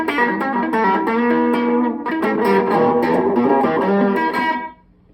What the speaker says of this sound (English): Keep the echo down quieter and keep the original guitar sound louder.